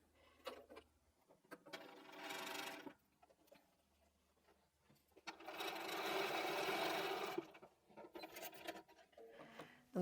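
A sewing machine stitches a pineapple quilt block in two close bursts of rapid whirring, the second longer, with soft handling noises of fabric between runs.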